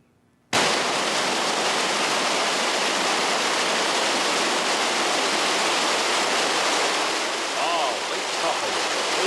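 A waterfall at Lake Tahoe roars in a dense, steady rush of water that starts abruptly and holds loud and unbroken throughout.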